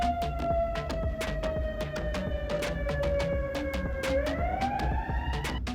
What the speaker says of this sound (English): Well, we do love the ambulances.